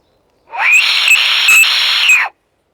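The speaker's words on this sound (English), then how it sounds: "I've brought along with me the death whistle." A death whistle blown once in a forest at Cannock Chase, a single harsh, shrill wailing blast lasting about two seconds, loud and close with no talk over it.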